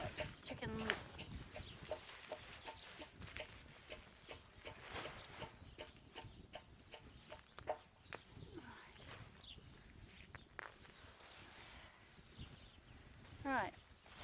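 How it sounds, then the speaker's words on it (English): Backyard chickens cluck in soft, scattered bursts at a moderate distance while a person talks nearby in a quiet garden setting. "So chickens."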